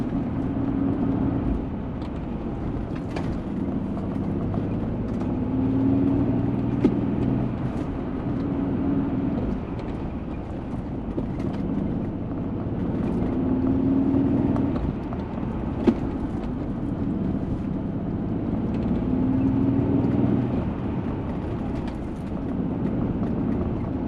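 A Nissan 300ZX rolls steadily over cobblestones, its tires rumbling and occasional knocks and rattles breaking through the constant road noise.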